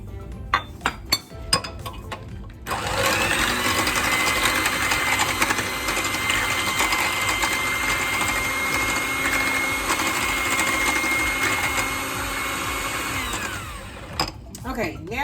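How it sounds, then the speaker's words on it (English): An electric mixer whirs steadily in a bowl, beating butter into a lemon blueberry loaf batter, its motor hum close and constant, with clinks of a bowl and utensils before it starts and as it stops. "I'm gonna mix our butter up in here."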